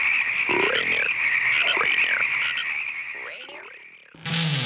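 Frogs croak in a Rainier beer TV ad, a continuous trilling chorus with sweeping voice-like calls that stops abruptly near the end.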